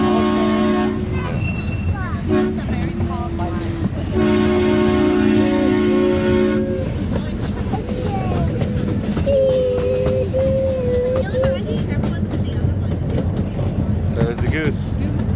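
Billy Jones Wildcat Railroad miniature train at Vasona running along, with several sustained toots from its horn or whistle over a steady rumble and nearby voices of riders chatting.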